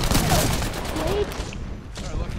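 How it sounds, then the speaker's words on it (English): Distant gunfire bursts from a Longbow sniper rifle in the shooter game Apex Legends, crackling over dense battle noise at steady loudness, with talk mixed underneath. "Someone's trying to snipe at us with a long bow"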